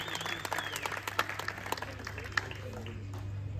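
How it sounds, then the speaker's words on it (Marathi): A crowd at a cricket league award ceremony applauds the umpires with steady, sustained clapping, a dense patter of many hands with a few sharper claps, while a voice speaks over it. "जरा जोरदार त्यांच्यासाठी टाळ्या होऊन जाऊ द्या."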